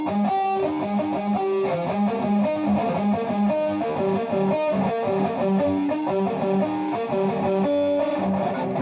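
Drop-tuned electric guitar played through high-gain distortion with a scooped midrange, chugging and ringing in a dense, steady riff with no voice over it.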